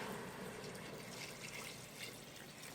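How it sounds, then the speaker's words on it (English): Water being poured into an Instant Pot for vegan lentil soup, a faint continuous splashing pour with a hollow, steady wash throughout. "Now I'm going to add 6 cups of water."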